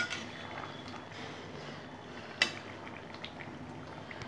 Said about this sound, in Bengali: এটা দিয়েও আমি এখন কিছুক্ষণ ফুটতে দেব